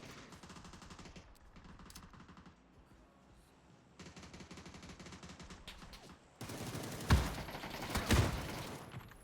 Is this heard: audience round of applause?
no